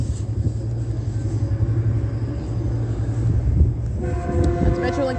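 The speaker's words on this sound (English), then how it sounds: "8:04 p.m. leaving from the Fontana Metrolink train station" A Metrolink commuter train leaving Fontana station at night, a loud rumbling roll close by, then a sustained multi-tone horn blast near the end.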